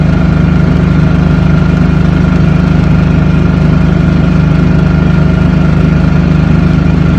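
A Vitals DHP-50 portable diesel heater runs with a loud, unbroken mechanical hum and fan roar, constant in pitch and level throughout, with no voices.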